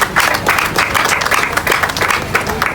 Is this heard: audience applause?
yes